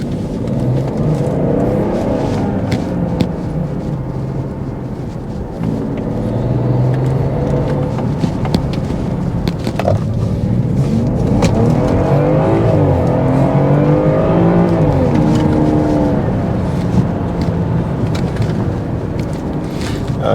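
A BMW 540i xDrive engine pulls hard under acceleration with a turbo spooling, a loud, steady drone that rises and falls in pitch through several gear changes, heard close and continuous without speech.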